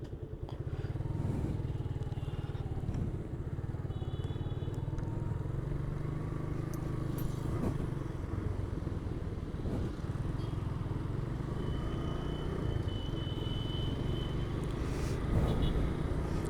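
Many motorcycles riding together on a road out of Dhaka at Eid, a steady low engine drone heard from on the bike with wind rush, occasional clatter and faint passing traffic.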